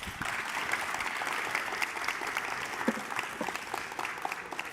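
Steady, fairly faint audience applause for student and intern presenters at a tech conference keynote showcase, a continuous dense patter of many hands heard from some distance, with no talk over it.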